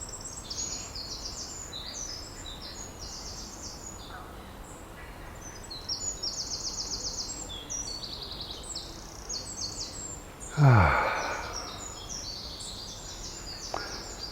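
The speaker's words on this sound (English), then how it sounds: "take a few minutes just to chill out, listen to the birds" Birds chirp and trill steadily at a distance over outdoor ambience, with a louder rising sweep of sound partway through.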